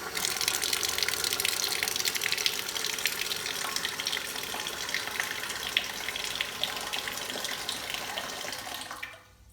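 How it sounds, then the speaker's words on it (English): Carbonated water gushes from a Britvic Cool Low soda dispenser lever held open, a steady loud hissing pour that runs for several seconds before cutting off at the end. "So press and hold the lever and we need to dispense a full 15 litres from this head."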